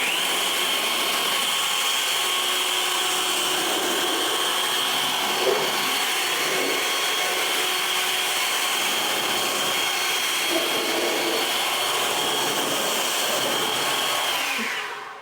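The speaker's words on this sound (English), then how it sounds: "by using the leaf blower" A loud, steady roar of a leaf blower drying a car at close range, holding one pitch before cutting off at the end.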